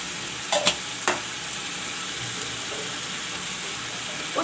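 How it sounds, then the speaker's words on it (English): Mutton and onions fry in a pan with a continuous low sizzle, punctuated by a couple of sharp clinks or scrapes of a spoon near the start and one near the end, with no speech. "the mutton is fried up along with the onions, you can see"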